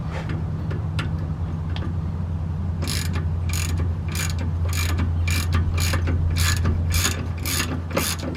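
A socket wrench ratchets on a shock bolt of a 1984 Chevy K20 in a greasy undercarriage. A steady run of about a dozen crisp, evenly spaced clicks rises from a low hum of background noise.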